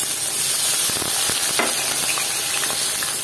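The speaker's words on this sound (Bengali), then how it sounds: "আমি শুটকিটা ভালো মতো তেলের মধ্যে ভেজে নিচ্ছি।" Dried fish sizzles and fries in hot mustard oil in a pan, with a dense, loud, continuous crackle and hiss plus occasional stirring clinks, close up and without talk.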